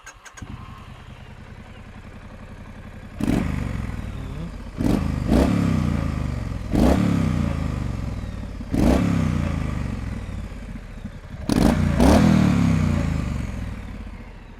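A Triumph Street Scrambler motorcycle idling, then five sharp throttle blips, each rev rising fast and decaying back, loud and close.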